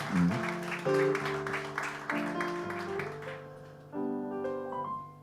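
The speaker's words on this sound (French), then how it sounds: "On les applaudit très fort." An audience at a poetry event applauds the performers, a steady wash of clapping over soft musical tones that fades away after a few seconds while the music carries on.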